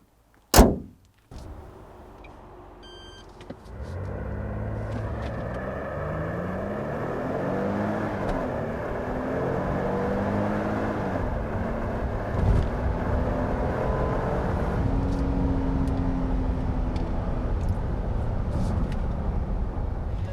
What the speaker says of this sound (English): Now let me show you how fast Palisade can be.